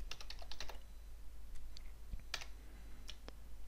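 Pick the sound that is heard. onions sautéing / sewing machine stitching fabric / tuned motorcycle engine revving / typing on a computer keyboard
typing on a computer keyboard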